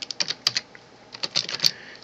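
Quick bursts of keystrokes on a computer keyboard while entering OpenSCAD code, crisp close clicks in irregular clusters with short pauses between them, no voice.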